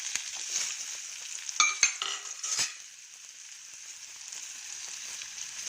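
Onions frying in a pan for methi bath, a steady high sizzle with a few sharp clinks and scrapes of a spoon against the pan early on, then a softer continuous hiss.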